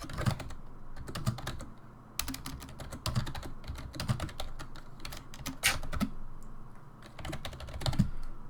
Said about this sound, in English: Where the hell am I typing?